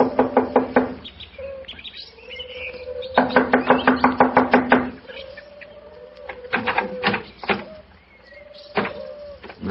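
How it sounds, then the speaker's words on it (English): Knuckles rap on a door in two quick bursts of sharp, rhythmic knocks in an old-time Sherlock Holmes radio drama, with chirping and squeaky sounds between the bursts. "I'll knock on the door."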